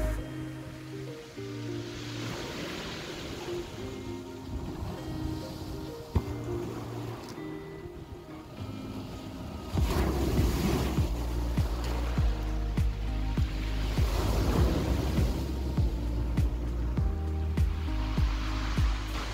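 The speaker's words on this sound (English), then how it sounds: "I'm just going to sit here and listen to the waves for a few minutes" Ocean waves wash onto a UK beach in steady, broad surges, loud and near, growing fuller partway through with no talking.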